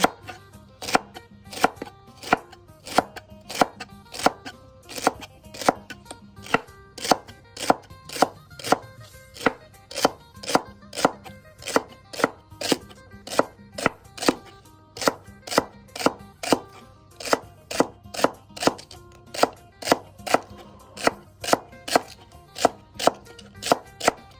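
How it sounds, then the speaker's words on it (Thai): A knife slices celery thinly, chopping rapidly and evenly on a cutting board, dozens of crisp taps in a steady rhythm with brief pauses, close and clear. "วิธีหั่นเราก็หั่นไปเลยค่ะ หั่นบางนะคะ ไม่ต้องหั่นใหญ่นะคะ"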